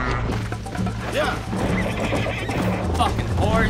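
A horse in the Red Dead Redemption game neighs repeatedly over steady clip-clopping hooves during a race, loud and close, with someone talking over it at times.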